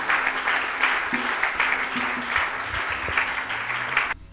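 A church congregation applauding and cheering for Jesus during Sunday testimonies, sustained clapping with scattered voices for about four seconds.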